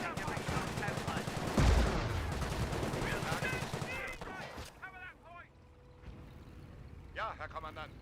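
Sniper rifle shots crack out in a Company of Heroes battle, a sharp burst early on amid heavy gunfire and mixed battlefield noise, with a voice talking over it.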